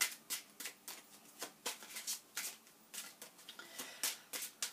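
Tarot cards being shuffled by hand in quiet repeated bursts of papery riffling and flicking, close up and fairly soft, with no speech.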